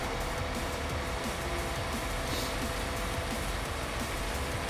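Rain from the weather effects in the video game Farming Simulator 19, a dense, steady patter of falling drops at constant loudness with no talk over it.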